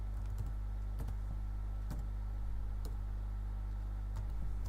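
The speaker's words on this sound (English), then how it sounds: "So I am to type this." Sparse keystrokes on a computer keyboard while a formula is entered in an Excel spreadsheet, a few crisp clicks spaced irregularly over a steady low hum, no talking.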